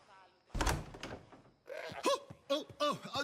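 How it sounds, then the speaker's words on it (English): A door is kicked in within Assassin's Creed Odyssey: one heavy thud and crash, followed by voices talking. "Open this door or I'll kick it in!"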